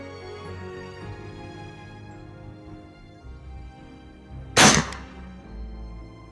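A single sharp, loud air rifle shot fired with Polymag pellets, a brief close crack standing out against a quiet background hum.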